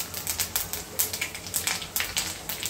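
Panch phoron seeds with dried red chillies and bay leaves spluttering and popping in hot oil, a close, busy crackle of sharp pops over a steady sizzle, with no voices.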